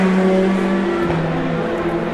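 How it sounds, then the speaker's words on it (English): A Toyota GT race car passes on a long circuit during the last lap, a steady engine drone with sustained tonal whine, fairly loud and continuous without a clear peak. "Oh no, that's the Toyota passing"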